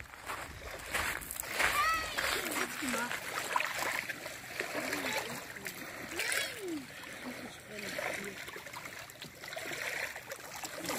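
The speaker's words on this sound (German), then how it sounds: "Lass noch ein bisschen Meeresrauschen euch hören." Sea surf at the shore in Hurghada, with waves washing and splashing steadily underneath, while children and adults talk and call out over it throughout.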